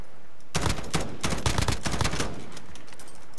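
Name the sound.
gunfire from a video game (Warzone)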